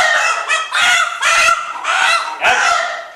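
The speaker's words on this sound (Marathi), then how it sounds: "आपण 2 कोंबडे घेतलेले आहेत राखणीसाठी." Two roosters bought for a village offering ritual squawk and crow loudly and close by in a run of four or five harsh, drawn-out calls separated by short pauses.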